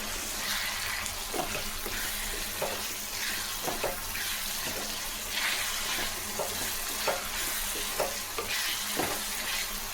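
Tamarind and masala sauté for a fish curry in a pan, giving a dense, steady sizzle throughout with regular soft scrapes of a spoon stirring every second or so.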